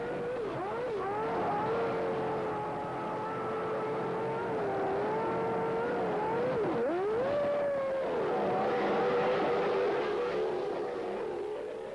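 A 1993 Formula One car, driven by Hill, accelerates away from a pit stop after a tyre change on a wet, slippery track; the engine note climbs steadily through gear changes, loud and sustained with no talk over it.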